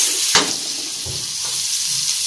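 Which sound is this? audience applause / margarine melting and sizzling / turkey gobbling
margarine melting and sizzling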